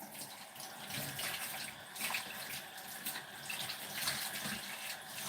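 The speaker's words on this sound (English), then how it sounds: "I'm going to wet a cloth" A tap runs steadily into a sink as a cloth is wet for covering mandazi dough, a close, continuous splashing stream with slight fluctuations.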